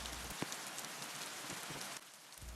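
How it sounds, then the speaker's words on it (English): Steady patter of rain in the Roblox game Bloxburg, a soft continuous hiss with scattered droplet ticks, alone and fairly quiet. "it's raining."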